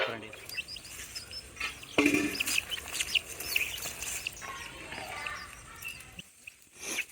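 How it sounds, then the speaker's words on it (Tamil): A Suthakaruppu kuvathadi fighting rooster clucking at a village yard, soft scattered clucks and short calls mixed with background chatter and rustling, fairly faint and not close. "இப்போ நீங்கள் பார்த்துட்ருக்கிற இந்த கோழிக்கு பேர் வந்துங்க சுத்தக்கருப்பு"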